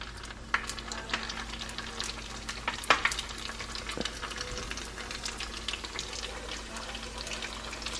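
Shrimp egg rolls sizzle and crackle steadily in a little vegetable oil on a stovetop over low heat, with sharp pops and spatters breaking through the continuous frying hiss.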